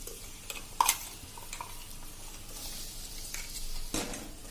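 Spinach puree going into a pan of spiced rice and corn gives a soft sizzle with stirring scrapes and a sharp clink of a utensil against the pan, close and without talk.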